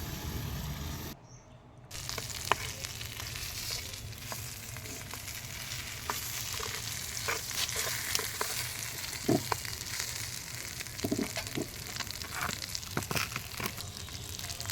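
Chicken pieces fry in hot oil with a steady, close crackling sizzle that runs throughout, broken by a brief quieter gap near the start and occasional sharper pops and spatters.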